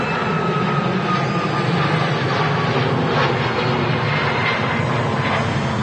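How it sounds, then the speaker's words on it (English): A Sun Express Boeing 737 Max 8 airliner departs Manchester Airport, its jet engines producing a loud, continuous roar that stays steady throughout, heard from a moderate distance with no voices. "Sun Express just departing."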